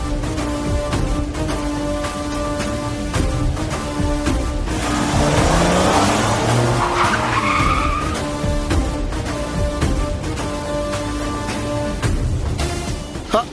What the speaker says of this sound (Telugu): 2 కార్లు గుంతల్లో ఇరుక్కుపోయాయి